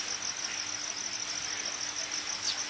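Crickets chirp steadily through the night at a temple in the Cango area, a dense continuous high trill with no talk, faint and constant throughout.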